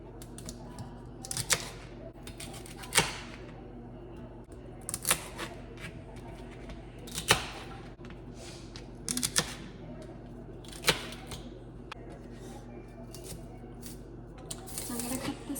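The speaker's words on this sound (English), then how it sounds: "Chop this celery into tiny pieces." Knife chopping washed celery into tiny pieces on a cutting board, a series of sharp separate taps spaced a second or two apart over a low steady room hum.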